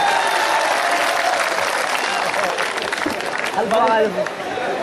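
Audience applause at an Urdu poetry recital, a dense, steady wash of clapping filling the hall for the whole stretch, with a voice rising over it near the end.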